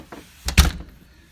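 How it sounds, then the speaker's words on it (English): A house door, checked during a foundation repair inspection, is swung and shut in quick succession: a light rattle, then two solid close-range thunks as it latches. "All right, so that door works perfect."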